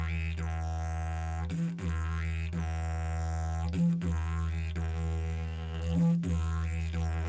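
Close, loud didgeridoo drone with an upper harmonic note popping in at regular intervals, short breath breaks between phrases and a rhythmic, vocalized pulsing pattern throughout.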